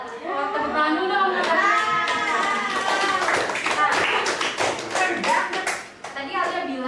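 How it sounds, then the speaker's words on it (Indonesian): Hands clapping in a lively burst under overlapping children's voices, a dense run of sharp claps that carries on for several seconds. "Wah, tepuk tangan dulu dong"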